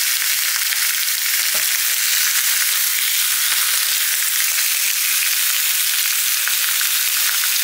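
Rabbit meat frying in a pan: loud, steady, hissing sizzle close up, with a few faint clicks and stirring taps, and no voices.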